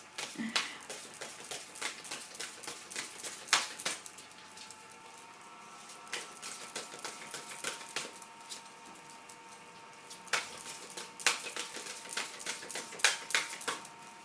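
Soft, rapid riffling and patter of playing or tarot cards being shuffled up close, in quiet bursts with brief pauses between them.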